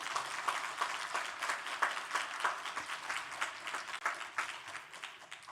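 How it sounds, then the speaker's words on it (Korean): A crowd at a Thursday university chapel service breaks into warm applause, a dense, continuous patter of many hands clapping at moderate volume with no voices on top. "뜨거운 박수 한번 부탁드리겠습니다"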